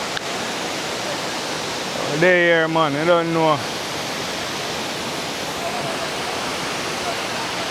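Waterfall at YS Falls roaring as a steady, loud, broad wash of falling water throughout, with someone speaking briefly over it near the start.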